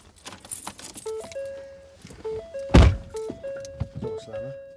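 A car door slams shut once with a hard thunk at mid-clip, set against keys, a light musical tone and other background noise.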